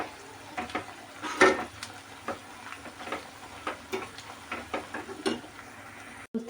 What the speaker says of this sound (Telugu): చూస్తున్నారు కదా, ఆనియన్స్ అయితే ఫ్రై అవుతున్నాయి.